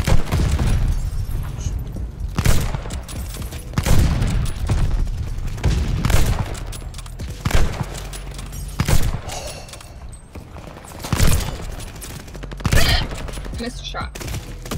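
Sniper rifle shots ring out in Call of Duty Vanguard, sharp booming cracks fired one after another at a steady pace, about every one to two seconds, loud and close amid game noise.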